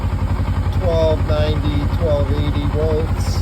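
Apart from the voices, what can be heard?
2007 Kawasaki Versys motorcycle engine idling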